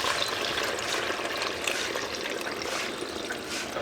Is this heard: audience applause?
no